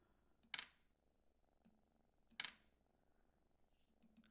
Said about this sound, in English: I hear the cat purring.